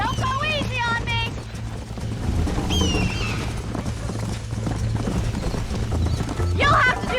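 A horse gallops with rapid, loud clip-clop hoofbeats and a couple of whinnies during a ride in Red Dead Redemption, while a voice shouts commands over the running.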